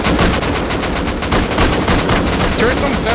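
Rapid gunfire in the Rust video game as players shoot out turrets, dense bursts of automatic shots cracking continuously and loudly, with some voices faintly underneath.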